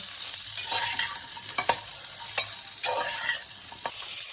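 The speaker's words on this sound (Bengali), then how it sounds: "সবজিটাকে একটু ভেজে নেব" Drumstick, carrot and bottle gourd pieces sizzle in oil while being stirred, with a bright frying hiss and repeated scrapes and knocks of a spoon against the pan, close up and without talk.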